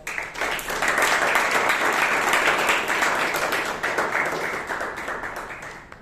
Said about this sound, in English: Let's give our table topic master a huge round of applause.